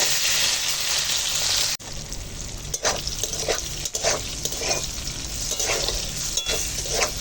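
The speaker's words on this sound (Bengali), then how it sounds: "এখন তেল গরম হয়ে গেছে নুন হলুদ মাখিয়ে এগুলো সব একসঙ্গে ভেজে নেবো" Bitter gourd and pointed gourd coated in salt and turmeric frying together in hot oil, a bright steady sizzle broken by a sharp cut, then crackling bursts as pieces are stirred.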